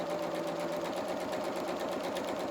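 A domestic sewing machine runs a steady, continuous straight seam along a second row of a Luna Lapin sailor dress skirt, its even motor whir close and unbroken throughout with no voices.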